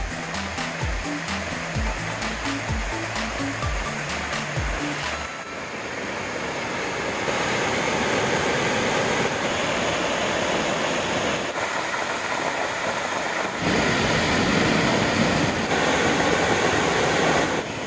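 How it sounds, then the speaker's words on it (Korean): Hwanggye Falls in Hapcheon, Korea, a waterfall pouring steadily into a pool, giving a loud, continuous broadband roar that swells slightly at times, with no voices. "시원한 폭포 감상해 보겠습니다."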